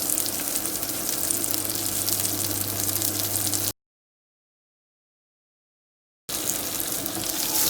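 Chorizo frying in oil in a pan for a chickpea and chorizo soup, giving a steady, dense crackling sizzle close by for about four seconds, then a gap of silence before the sizzle picks up again.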